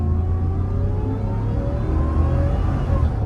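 A 725 HP Ford F150 Midnight Covert pickup, 2025, in sport mode accelerates hard, its deep engine rumble and rising rev tones sustained while holding a gear, heard loud from inside the cab.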